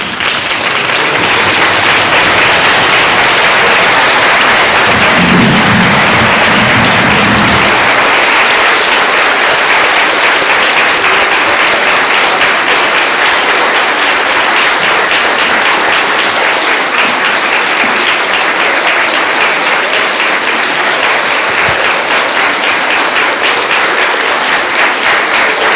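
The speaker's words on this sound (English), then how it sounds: "I ask you to stand and give a round of applause to the heroes and heroines." A large crowd stands at a Flag Day ceremony and applauds heroes and heroines. Loud, dense, continuous clapping holds steady for more than twenty-five seconds, with a brief low murmur early on.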